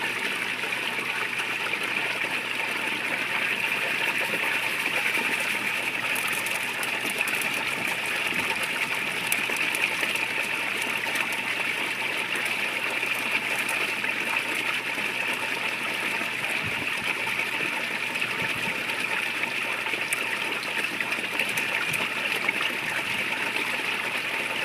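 Water runs steadily through a sluice over a mat, washing pay dirt in a constant rushing trickle that stays even and close throughout, with no talking.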